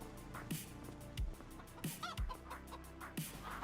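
Chickens cluck in the Farming Simulator 25 video game, with soft, repeated clucks at a loose, uneven rhythm, faint and low in level beneath a steady background hum.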